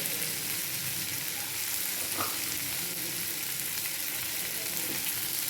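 Ivy gourd sautéing in a pan for kovakkai poriyal gives a steady, even sizzle throughout, with a brief scrape of stirring partway through; no one speaks.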